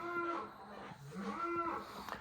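Cows and a bull on a farm lowing, two drawn-out moos with a faint grunt between them, fairly distant and soft against light background noise.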